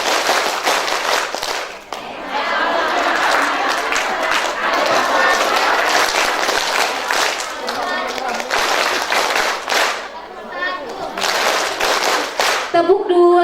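A crowd at a community health post gathering plays a counting clapping game, with bursts of loud, rhythmic group claps mixed with voices calling out and brief pauses between rounds.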